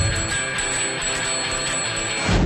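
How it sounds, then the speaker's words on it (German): A newly fitted bicycle bell, replacing one rusted stuck, rings in steady repeated trills for a couple of seconds, bright and close, with no one talking over it. "Naja, Klingel ein bisschen festgerostet, aber haben eine neue Klingel dran gemacht."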